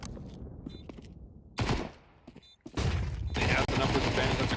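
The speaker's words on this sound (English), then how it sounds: "That's a great flashbang" Grenade blasts and bursts of gunfire in a competitive Counter-Strike style esports match, several loud, broadband crashes separated by brief quieter gaps.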